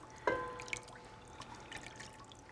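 One cup of heavy cream pouring into a pot for mac and four cheese: a brief soft liquid splash and trickle near the start, followed by faint dribbling and quiet kitchen noise.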